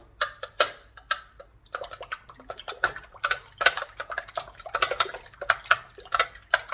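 Eggs with black pepper are whisked for an omelette in a bowl, a quick, close run of sharp clicking taps from the utensil hitting the bowl in an irregular rhythm.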